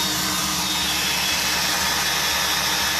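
A small wind turbine generator spins at a low 210 RPM on a test rig, giving a loud, steady whooshing roar with a faint hum underneath.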